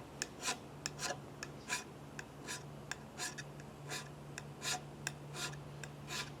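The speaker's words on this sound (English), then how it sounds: "That's the material that we are removing when we scrape." Hand scraping a machined metal surface, a steady series of short, sharp rasping strokes repeating at an even pace, close and clear without talk.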